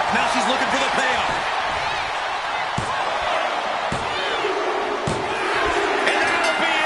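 A loud wrestling arena crowd roars without pause in the video game WWE 2K26 during a women's match, a dense wash of cheering with a few sharp slams and a commentator's voice over it.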